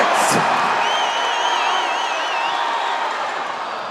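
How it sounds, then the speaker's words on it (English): A crowd at a strongman log lift event cheers and whistles for Graham Hicks, a loud, steady roar close by that fades slightly toward the end. "round of applause for Graham Hicks"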